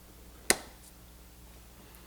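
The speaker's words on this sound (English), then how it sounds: "Try not to clap so loud so that Coconut won't hear us high five." Two podcast hosts slap a single crisp high-five clap, one sharp close smack in an otherwise quiet room.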